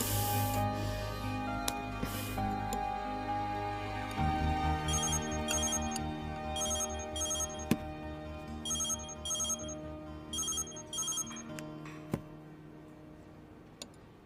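A telephone ringtone repeats in bursts through a Hindi-dubbed Chinese drama scene, sounding alongside steady background music with no talk over it.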